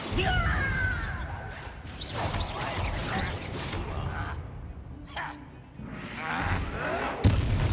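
Bombarda spell explosions in Hogwarts Legacy combat, loud booms and crashes with magical whooshes amid battle noise, a sharp impact near the end, with a voice speaking during the fight.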